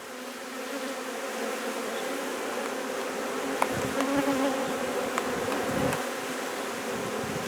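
Honeybees buzz steadily on the comb around a queen during queen marking, a close, continuous drone with a few brief clicks and no talk.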